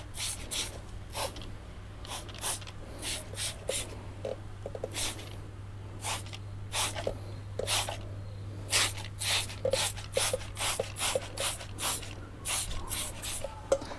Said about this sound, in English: Try to be careful, but give a similar amount of sprays to both.